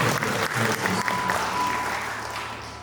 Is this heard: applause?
yes